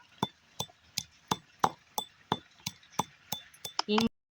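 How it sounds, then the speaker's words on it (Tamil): Roasted poppy seeds are pounded in a stone mortar for mutton thokku powder, a steady series of about a dozen sharp, close thuds at even spacing, with a brief clatter at the end. "உரலில் நல்லா மாற்றிக்கிட்டு இப்போ வந்து பொடியாக நசுக்கி எடுத்துக்கலாம்"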